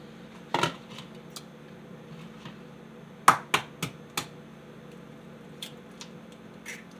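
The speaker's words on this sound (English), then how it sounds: "Crack your eggs, throw them in your bowl" Eggs cracked against the rim of a bowl, one sharp crack followed by a quick cluster of three or four close taps and clicks, then lighter ticks, in a quiet room.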